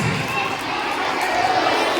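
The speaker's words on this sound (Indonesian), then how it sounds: "Tepuk tangan dong" At a school halal bi halal gathering in Samarinda, a crowd of children and adults claps and cheers, a dense, continuous wash of noise with shouts mixed in.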